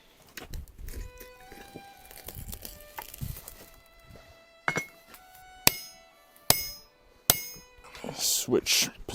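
A 20-pound sledgehammer striking hot steel while a stake anvil is forged by hand, several loud ringing clanks in a slow, spaced rhythm, close, with a voice talking early on.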